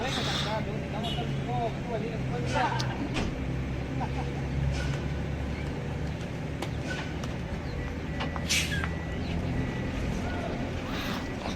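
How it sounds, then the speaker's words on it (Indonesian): An MPM coach bus pulls out of Bukit Surungan bus terminal bound for Jakarta, its steady low engine rumble filling the scene alongside busy terminal noise and background voices. "akhirnya bus MPM meninggalkan Terminal Bukit Serungan menuju Jakarta dan sekitarnya"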